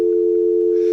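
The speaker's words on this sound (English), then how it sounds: "Play the dial tone, Kyle." A steady telephone dial tone hums continuously at a constant pitch, loud and close, lasting about a second with nothing else over it.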